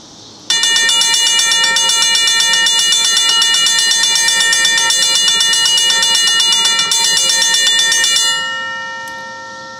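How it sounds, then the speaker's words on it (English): Electric bell powered by a 12-volt battery rings very fast, its clapper rattling in a loud continuous metallic trill that starts abruptly, holds for about eight seconds, then cuts off and fades. "this bell does ring really fast. It's because that I use a 12-volt battery to power it"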